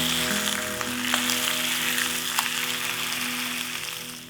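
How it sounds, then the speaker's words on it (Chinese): Chicken thigh pieces frying skin-down in a pan over medium heat, a steady close sizzle with occasional sharp pops and crackles of oil. "接着煎鸡腿肉"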